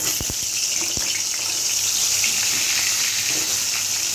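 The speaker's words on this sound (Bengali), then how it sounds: "এখন আলুটা ভেজে নেব।" Potatoes fry in a pan with a steady, hissing sizzle that continues without a break, close and fairly loud, opening with a few sharp clicks.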